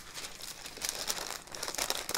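A hot vinyl mesh stencil is peeled away, a faint close crinkling and tearing with a few quick rustling bursts.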